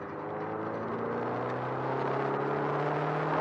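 An EcoBoost Mustang engine drones steadily at around 3,000 RPM in fifth gear with traction control off, a smooth rising whir that builds gradually in loudness, heard from inside the car with no talking.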